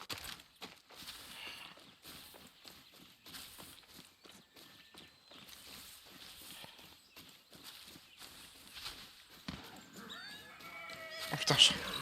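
Horse hooves and a neigh in the video game Far Cry 6, faint clopping steps under scattered game noise, with a louder burst near the end while people talk.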